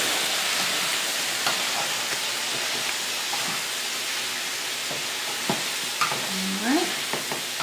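Ramen noodles and thawing frozen vegetables sautéing in a stir fry, a loud continuous sizzle with scattered clicks and scrapes of stirring, no voices.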